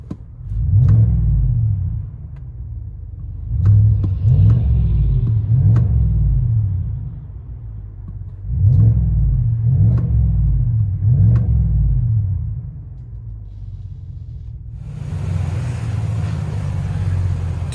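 From inside the cab of a 2019 GMC Sierra Denali with a 6.2L V8 and dual Flowmaster Flow FX exhaust, deep rumbling revs rise and fall in repeated bursts, loud and close, before settling into a steadier drone with added road hiss.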